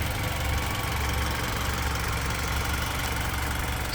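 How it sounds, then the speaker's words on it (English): A 2020 Mitsubishi ASX with a 2-litre engine idles steadily up close, a continuous low rumble with a faint rhythmic knock and no voices. "the car is still running"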